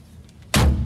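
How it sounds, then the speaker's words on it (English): The cab door of a Kubota excavator swings shut with a single loud, solid slam and a brief low rumble afterward, close up and heard alone after a quiet moment. "Go ahead, close this door. It's pretty cool how this door actually works"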